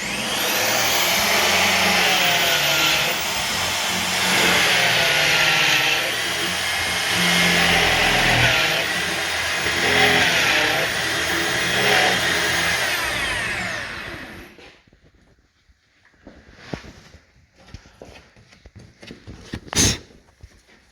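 A power drill bores a concealed hinge cup hole through a clamped workpiece with a Kreg jig cutter. It gives a loud, steady whirring grind for about fourteen seconds, then stops, followed by faint scattered clicks and taps.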